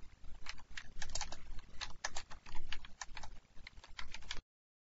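Rapid typing on a computer keyboard while entering code in Visual Studio .NET, a close run of light, uneven key clicks lasting a few seconds before stopping.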